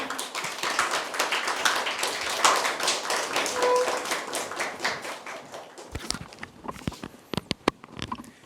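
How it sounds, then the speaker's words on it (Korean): A church congregation claps in welcome for a preacher coming forward, a dense, steady round of applause that thins after several seconds into a few scattered, sharper claps. "나오실 때 우리 환영의 박수 하겠습니다"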